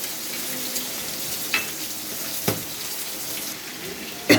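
Onion and garlic frying in oil until golden, with green chilli added, for a fish curry: a continuous close sizzle broken by a few sharp clinks and scrapes of a spatula, and no talking.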